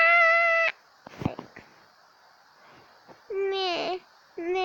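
A cat meows repeatedly in drawn-out, rising and falling cries, near and fairly loud, with soft handling and rustling noises in the pauses between calls.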